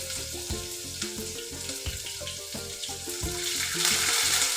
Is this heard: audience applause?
no